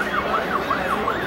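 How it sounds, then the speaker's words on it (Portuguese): An ambulance siren wails at a street protest in Blumenau, Vale do Itajaí, in front of the 23rd Infantry Battalion, its rising and falling sweeps repeating steadily and fairly loud over low crowd and traffic rumble. "vamos dar uma abertura ali para a ambulância, por favor"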